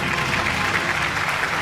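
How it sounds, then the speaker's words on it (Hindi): Dense, steady applause from an audience at an annual award show, a continuous wash of many hands clapping with no break. "खातिन हज़रात, आपकी भरपूर तालियों में"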